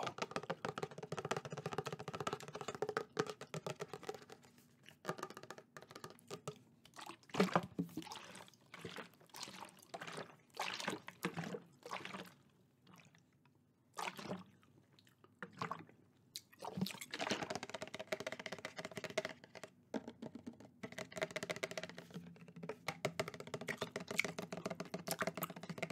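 Fingers tapping on a water bottle during a quiet close-up ASMR session, with soft irregular clicks and taps coming in bursts, then brief pauses, with faint liquid-like crinkles.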